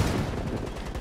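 Gunfire in Call of Duty Black Ops 3 on hard mode, a steady run of rapid shots crowding a short burst of battle noise, loud and close throughout.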